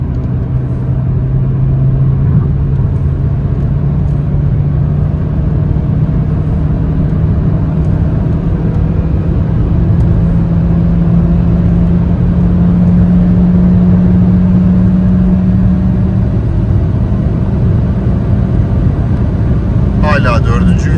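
A 2021 Honda Civic Eco Elegance pulls under load in fourth gear from the cabin: a loud, steady engine drone rises slowly in pitch beneath constant road rumble, while someone talks over it.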